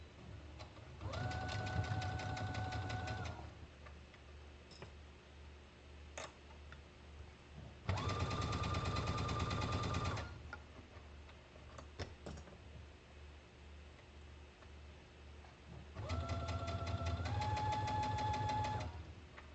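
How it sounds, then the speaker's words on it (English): Sewing machine stitching around the armhole of a T-shirt in three bursts of steady rapid clatter, pausing between runs with faint handling noises, close and fairly loud, no talking. "I'm just going to sew around the armhole."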